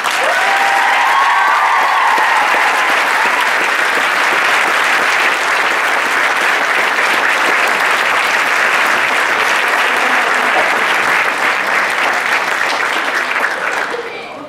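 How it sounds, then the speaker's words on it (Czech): A large crowd at a birthday celebration claps loudly and continuously for roughly fourteen seconds, a dense, even roar of applause that fades only at the very end. "takže ještě velký potlesk pro ní"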